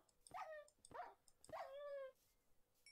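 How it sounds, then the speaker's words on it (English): Three short whimpering yips from a hungry dog in a block-building survival video game, evenly spaced and fairly close, each with a thin whining tail, the last one drawn out longer. "Okay, another dog over here."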